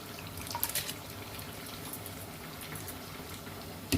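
Water simmering in a pot as rice goes in to par-boil for chicken tikka biryani, a faint, steady bubbling hiss with a few soft splashes near the start and a knock at the end.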